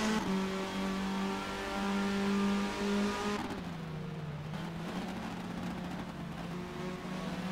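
A Chevrolet touring car's engine drones at a sustained high pitch in the VSR WTCC 2012 racing game at Sonoma, then drops and wavers as it shifts and bogs through a corner, the note steady and loud throughout without talk.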